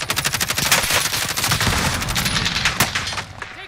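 Sustained automatic gunfire from a Call of Duty: Warzone match, loud and close, with rapid rhythmic bursts rattling continuously for several seconds and a few sharper shots near the end.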